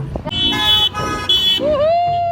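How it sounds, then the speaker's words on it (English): Car horns blare at a street protest in New Orleans, a few loud sustained honks close by, mixed with a voice rising in the middle. "honk your horn"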